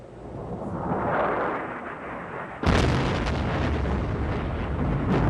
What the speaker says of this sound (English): Huge explosions are heard and buildings are set ablaze in the Iraqi capital, apparently from a new wave of airstrikes.